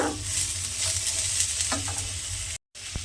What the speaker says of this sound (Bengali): আলুটা দিয়ে আবারও কিন্তু আমি একটু ভাজা ভাজা মতো করে নেব।